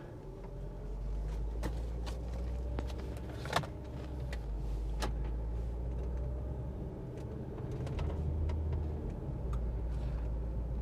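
A Mk4 Jetta with a Tiptronic automatic transmission is shifted into drive and pulls away at low speed, a steady low engine hum from inside the car with a few faint clicks and knocks, no talking.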